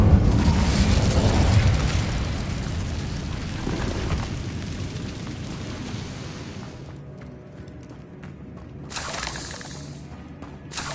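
The Incendio fire spell in the Hogwarts video game erupts as a loud, roaring blast that sustains for several seconds, then thins out and ends with a crackling burst.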